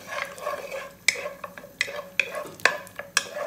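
Cashew nuts stirred in a hot pan with sharp spoon scrapes and clinks recurring every half second or so over a light sizzle, close and fairly loud, with no talking.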